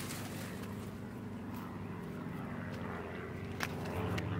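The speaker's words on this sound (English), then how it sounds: "There's an airplane flying overhead." Airplane passing overhead above a summer garden, a faint, steady distant engine drone that swells slightly toward the end, with light rustling and small knocks nearby.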